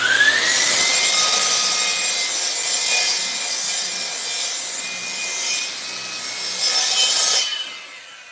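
Hand saw cutting into wood, a loud continuous rasping stroke sound lasting about seven seconds close up, then stopping abruptly.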